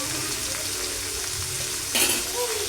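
Ginger garlic paste frying in a pan with broad beans, a steady close sizzle with occasional stirring, and a sharper burst of hissing partway through.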